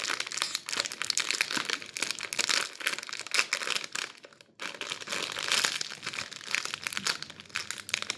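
Plastic packaging on a strawberry jelly is handled and pulled open, giving continuous close crinkling and crackling with a brief pause midway, then more rustling, with no voices.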